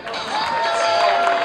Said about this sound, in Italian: Niente, purtroppo applaudono male